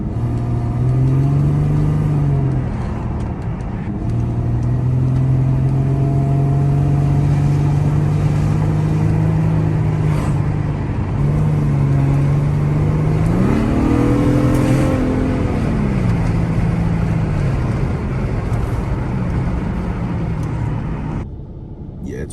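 An Infiniti G37 with a new Y-pipe exhaust drives along, its engine a loud, steady drone that rises and falls as the revs climb, ease off and climb again, with no talk over it.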